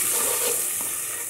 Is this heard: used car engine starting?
no